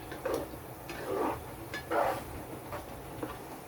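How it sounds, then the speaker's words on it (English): Spoon scraping and knocking in a pot of spaghetti Bolognese sauce, soft irregular clinks and stirring swishes with a faint sizzle, quiet and close. "Let's give it a stir."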